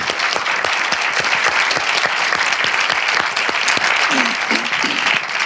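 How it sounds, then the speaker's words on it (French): An audience at a cinema film-debate applauds, a dense burst of clapping from many hands, close and sustained, with a brief voice coming in near the end. "on peut les applaudir"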